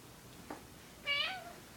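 Timbo the cat gives a short chirp followed by one clear, rising meow, faint and close in an otherwise quiet room.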